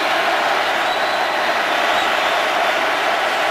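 Steady, roaring stadium crowd noise fills an NFL game between the Eagles and Seahawks in Seattle, a loud, unbroken wash with no distinct voices standing out.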